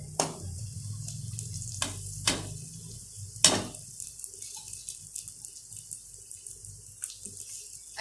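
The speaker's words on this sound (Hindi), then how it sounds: "5 से 7 मिनट हम इसको अच्छी तरह से भूनते हैं गोश्त को, यानी कि तेल के अंदर फ्राई करते हैं।" Meat frying in oil in a pot with onions, a low steady sizzle punctuated by occasional clanks and scrapes of stirring, close by and fairly quiet.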